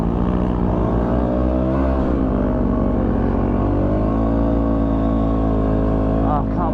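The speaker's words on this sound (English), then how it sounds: "Oh, I can't believe how much my bike is actually full bogging down." A motorbike engine labours and bogs down in soft desert sand, a loud, close, strained drone that rises and sags in pitch as the rider pushes through, with a brief rev near the end.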